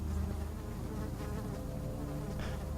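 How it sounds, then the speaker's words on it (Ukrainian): In the horror game Amnesia: The Dark Descent, flies drone in a close, continuous buzz that swells and fades a little as they circle, with no speech over it. "Думаю, щось таке повзає, то мухи."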